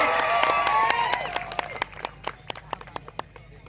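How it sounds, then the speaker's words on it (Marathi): An audience at a large Adivasi youth gathering applauds a dancer, a dense wash of clapping that thins into a few scattered, isolated claps. "एकदा जोरदार टाळ्या होऊ द्या आपण नायराजीसाठी"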